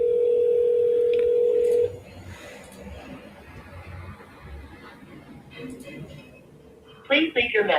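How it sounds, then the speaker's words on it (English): A phone call being dialed by voice command, with a steady dial tone first, followed by muffled background speech and a quick burst of dialing tones at the end. "Hey Siri, dial"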